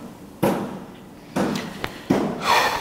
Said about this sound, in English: there's a construction going on in front of me